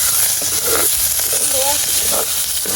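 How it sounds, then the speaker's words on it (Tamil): Tomato sizzles as it is sautéed in a pan for a Jaffna-style fish curry, a steady close frying hiss throughout with a few faint background sounds. "தக்காளி பழம் ஒன்று எடுத்து கீறி போட்டுட்டு இப்படி வதக்கினா மீன் குழம்புக்கு டேஸ்ட்டு கூட"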